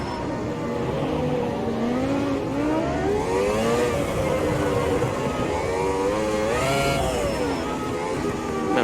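Race car engines during a Monaco race in the Automobilista 2 video game, with a loud continuous engine drone that rises and falls through gear changes and revving, one car prominent up close, and no talking.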